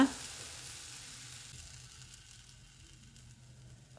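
Bread spread with a vegetable mixture fries in hot butter on a pan, giving off a faint, steady sizzle that continues quietly throughout.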